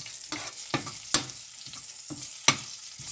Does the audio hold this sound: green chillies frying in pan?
yes